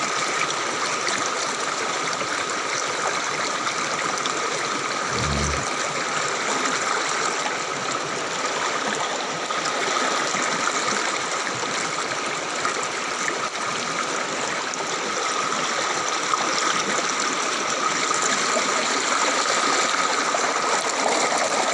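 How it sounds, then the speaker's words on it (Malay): Rushing floodwater during a natural disaster that swept away houses and livestock, a steady, dense broadband roar of flowing water holding constant and close throughout, with no talk. "derasnya air."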